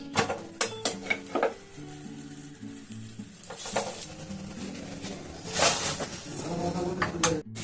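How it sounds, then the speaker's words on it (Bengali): A pea-stuffed paratha frying in a pan, a gentle sizzle with repeated clacks and scrapes of a spatula and pan, with some voice in the background. "আবার দেখুন আমি ভেজে নিচ্ছি"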